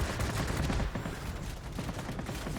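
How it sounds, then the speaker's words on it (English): Anti-aircraft gunfire in the World of Warplanes video game, a dense, continuous rattle of rapid shots and bursts holding steady and loud throughout, with no talking. "we do have some AA taking some shots at us"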